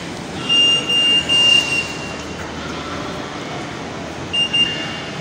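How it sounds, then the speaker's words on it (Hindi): A Delhi Metro train rumbles steadily at Noida Sector 52 station, with a high whining tone that rises and fades twice over the broad rail noise; no one speaks. "तो इस समय हूँ मैं मेट्रो स्टेशन नोएडा 52 पर"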